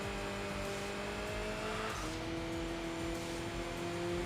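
An upgraded car engine roars in the PS2 racing game Enthusia Professional Racing, the turbo blowing off. There is a steady loud drone, a sudden pitch drop and hiss near the middle, then renewed acceleration.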